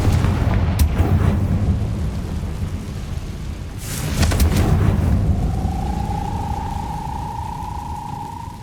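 Confringo explosive spell in Hogwarts Legacy, a couple of sharp blasts with deep rumbling over a constant low roar, followed by a rising whistling tone that lingers to the end.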